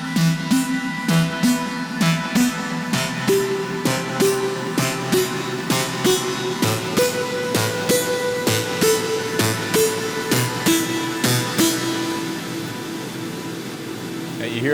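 Synth lead built from the Zebra plugin stacked with several other plugins, playing a rhythmic pulsing melodic line with steady repeated attacks and heavy reverb wash, loud and continuous with no talking.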